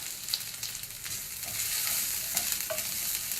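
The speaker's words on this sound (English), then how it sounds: "So we're going to give it a stir." Ginger paste and tempering spices sizzle steadily in a frying pan while being stirred for a Bengali vegan dish, with a constant hiss of hot oil and occasional scraping taps of the spoon, close and continuous.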